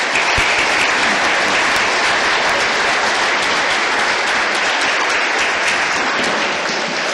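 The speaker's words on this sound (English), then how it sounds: "Let's give a big round of applause to our Postmaster General," A community meeting audience applauds the Postmaster General, dense continuous clapping from a crowd, loud and sustained without a break.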